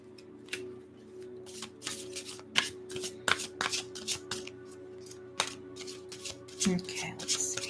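Psychic Tarot cards are shuffled by hand in a string of crisp riffling and flicking bursts, close and fairly quiet, with a soft voice now and then underneath.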